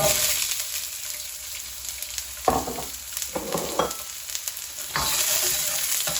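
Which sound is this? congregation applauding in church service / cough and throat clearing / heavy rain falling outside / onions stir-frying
onions stir-frying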